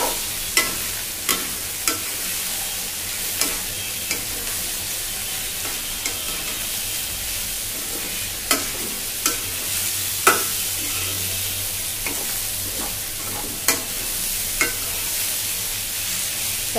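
Bitter gourd sizzles in hot oil in a pan, with a little turmeric added, while a spatula scrapes and taps the pan at irregular intervals over a continuous loud frying hiss.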